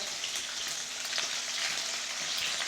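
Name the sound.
peanuts being stir-fried in a pan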